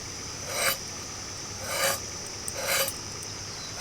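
A knife scrapes the outer skin off pointed gourds (potol) in three close, rasping strokes, each a short, gritty scratch about a second apart, with no talk.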